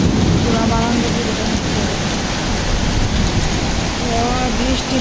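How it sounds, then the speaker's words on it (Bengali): Heavy rain from a thunderstorm pours steadily over a Dhaka balcony with grilles, a dense, loud, continuous wash of noise, with faint voices briefly audible beneath it. "একদম প্রচুর ঝড় বৃষ্টি শুরু হয়ে গেছে"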